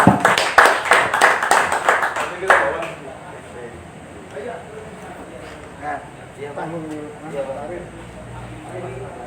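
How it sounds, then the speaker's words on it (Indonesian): A small audience at a talk-show event claps in a quick burst of rhythmic applause that fades after a few seconds, followed by a person speaking over quiet room noise. "Kita kasih aplaus."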